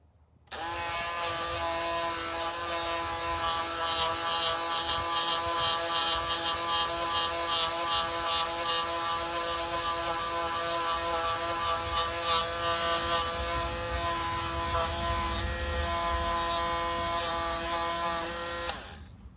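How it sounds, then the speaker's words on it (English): Small sanding disc on a power tool buffs corroded door hinges on a Jeep JK, a steady high-pitched whine with rough grinding rasp running nearly twenty seconds, close and alone. "now that I've got this little sanding disc on a little tighter, it seems to not be, getting all floppy on me."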